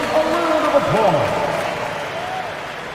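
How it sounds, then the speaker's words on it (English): A crowd applauds in a large, echoing NBA arena, the clapping steady and fairly loud, with voices and cheers mixed into the noise. "Give yourself a round of applause."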